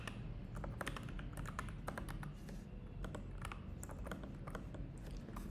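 Someone types on a computer keyboard while coding an Android app, producing a steady stream of close clicking keystrokes over quiet room noise.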